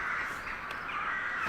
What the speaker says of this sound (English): Them crows are always crowing. Or cawing, or whatever they are.